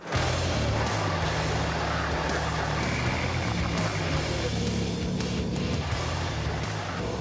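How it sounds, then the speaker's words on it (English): Engine of an old military vehicle idling and revving on a test drive, a steady loud rumble with strong low harmonics throughout, no talk over it. "Engine sounds strong, doesn't it?"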